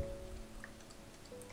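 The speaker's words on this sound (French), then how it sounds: "Et la pluie revient, ça faisait longtemps." Rain falling in a video game, a faint, steady patter and hiss that holds evenly throughout with no talk over it.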